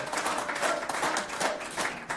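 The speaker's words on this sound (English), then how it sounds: "You can continue clapping if the stocks goes up" An audience applauds at a Nasdaq event, dense steady clapping filling the whole stretch at moderate volume with no pauses.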